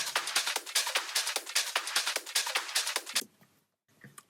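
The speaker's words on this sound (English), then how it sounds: "All together, the back percussion sounds like this." A layered back percussion loop of rapid skippy hi-hats over drums, busy and steady for about three seconds before cutting out to near silence with one faint hit at the end.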